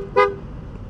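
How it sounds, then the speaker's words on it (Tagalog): A loud aftermarket horn on a Honda ADV 160 scooter gives one short, bright honk near the start. It rings with strong harmonics and is heard alone, then fades into quiet background. "Pag sa loud horn,"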